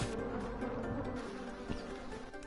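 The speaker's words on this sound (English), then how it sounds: "I'm going to make a mad dash past the bees" Bees buzz inside a video game, a dense, steady swarm drone that continues without a break under a faint background hum.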